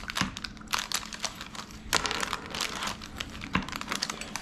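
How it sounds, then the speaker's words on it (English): A pizza cutter rolls through a cooled sheet-pan pancake in the pan, making a close, busy run of crackly clicks and scraping rasps with a few sharper knocks. "I got a pizza cutter here, and I'm gonna take and just cut it"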